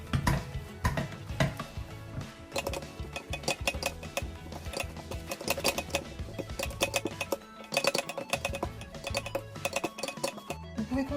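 A spoon stirs choux pastry dough of flour and water in a pan over low heat, with rapid, continuous scraping and clinking of the utensil against the pan throughout, close and steady, with no talking.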